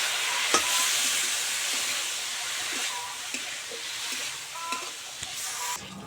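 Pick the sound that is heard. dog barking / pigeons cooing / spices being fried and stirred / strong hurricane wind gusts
spices being fried and stirred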